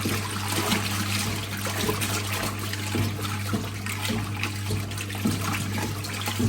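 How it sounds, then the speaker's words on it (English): A 1958 Hotpoint Empress washing machine runs its agitator, giving a steady low motor hum with sloshing, swishing water churning throughout, close and continuous without talk. "Lever up, starts the agitator."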